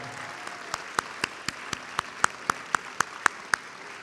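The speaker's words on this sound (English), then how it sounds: "how about a round of applause for the parents and the aunts and uncles and grandma and grandpas that are here to watch you today" Scattered hand claps ring out in a steady rhythm, roughly one every quarter second, crisp and fairly near, for parents and relatives at a spring awards convocation, standing alone over a low room murmur.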